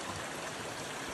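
Water from a creek on Mount Mitchell near Burnsville, North Carolina, flows in a steady, faint, even rush with no other sounds, a brief continuous stretch.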